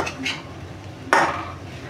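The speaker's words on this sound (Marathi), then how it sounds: "आता आपण हे पोहे असे चांगले मिक्स करून घेऊया." Poha being stirred and mixed with spices in a pan gives light metallic scrapes and clinks, one sharper, louder scrape standing out partway through, with soft background kitchen sounds.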